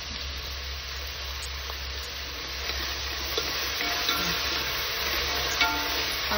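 Onions sauté in a pan for biryani with a steady close sizzle and occasional scraping stirs, alone without talk.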